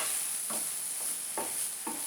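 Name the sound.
spaghetti sauce simmering and being stirred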